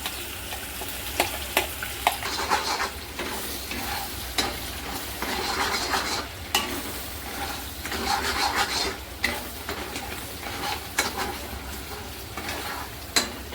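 Spice masala hits hot oil with asafoetida in a pan, sizzling steadily up close while a spoon scrapes and clinks against the pan at irregular intervals, with no speech.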